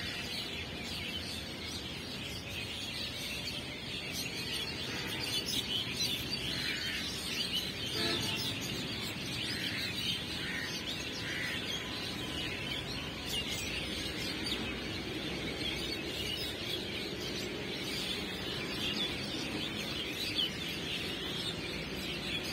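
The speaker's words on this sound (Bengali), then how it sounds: "এত পাখির কিচিরমিচির শব্দ," Birds chirp and call in a village on a foggy winter morning, a steady wash of twittering with possible rooster and fowl calls, traffic and machinery faint in the distance.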